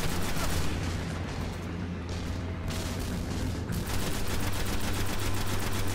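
Rapid gunfire during the Sekrion, Nexus Mind boss fight in the Destiny Venus strike, a dense, steady stream of close, loud automatic shots over a low rumble, with no talk.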